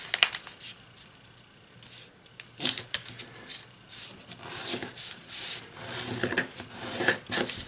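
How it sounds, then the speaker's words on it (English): Paper is folded and creased by hand while making a two-bladed propeller flying flicker toy, giving soft, close, intermittent rustles and rubbing swipes at low volume. "you can just take this edge and fold it to this edge"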